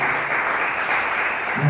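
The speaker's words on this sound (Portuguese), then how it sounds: "Vamos aplaudir e glorificar o Senhor" A church congregation applauds during a Portuguese-language worship service, a sustained, even roar of many people clapping together, with a low murmur rising near the end.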